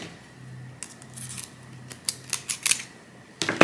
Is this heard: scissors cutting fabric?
yes